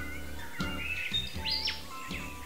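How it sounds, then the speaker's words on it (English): Songlarks singing in Australian woody grassland, a bright run of chirps, trills and rising whistled notes repeated in short bursts over a few seconds, fairly close and clear with no voices. "we're going to look at some of the birds that inhabit the woody grassland areas of Australia"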